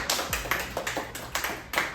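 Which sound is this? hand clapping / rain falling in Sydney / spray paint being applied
hand clapping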